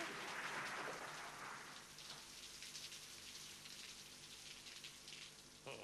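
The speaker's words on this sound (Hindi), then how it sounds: "अरे बाहर बारिश भी है" Heavy rain pours steadily outside at night, a dense, even hiss of drops that holds loud and unbroken throughout with no voices.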